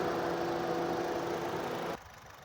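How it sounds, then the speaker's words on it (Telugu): A 2011 Honda City petrol car engine idles with a steady, even hum and faint mechanical buzz close by, then drops abruptly in level near the end as if a hood or door shuts. "ఇంజన్ చూసారు కదా, స్మూత్గా ఉంది ఇంజన్ కూడా."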